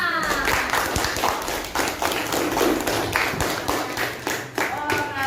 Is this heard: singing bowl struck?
no